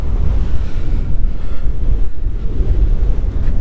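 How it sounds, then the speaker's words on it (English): Strong wind roaring across an exposed moorland tor, Lower White Tor, in stormy weather, a loud continuous rumbling buffet hitting the microphone with gusty surges and no voices. "It is really blowing quite windy now up here"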